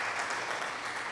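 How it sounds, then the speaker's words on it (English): A small group claps for a moment, a soft and fairly distant spatter of hands without any voices. "Thank you for the applause."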